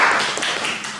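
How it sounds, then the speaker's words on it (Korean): A short burst of hand clapping from a group at a church meeting rings out loud and close, quickly fading within a second. "박수 한번 치죠."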